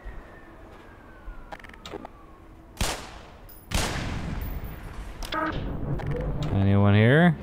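Enemy gunfire in the Black Mesa game, sharp shots and bursts rising into a continuous clatter amid game effects and a rising electronic warble, with a voice talking over it.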